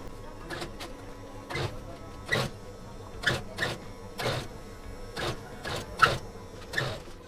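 A sewing machine in a nightie factory stitches the neck part of a nightie, running in short rhythmic bursts of whirring with brief pauses between them, fairly close and steady in level.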